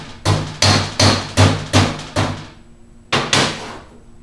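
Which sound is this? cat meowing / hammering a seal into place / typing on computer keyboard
hammering a seal into place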